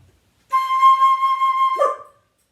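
A single sustained high C flute note, steady and clear, held for over a second before a brief breathy release at the end.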